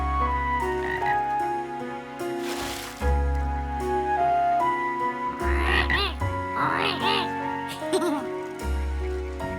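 A cartoon frog croaks at a pond deep in the woods, several croaking bursts standing out over continuous background music.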